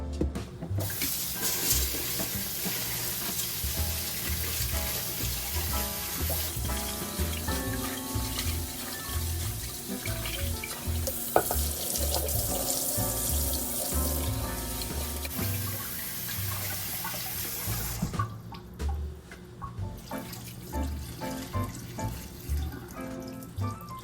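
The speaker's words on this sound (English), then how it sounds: "wash the rice in the wrong container" Tap water runs steadily into a container while rice is washed, a close, continuous splashing rush with shifting gurgles and clinks of the grains and pot, with no voices.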